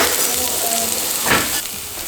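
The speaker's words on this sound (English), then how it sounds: "Fry that in some oil." Ginger, onion and garlic fry in oil with a loud, continuous close sizzle and crackle, with a brief stirring scrape midway and no voices.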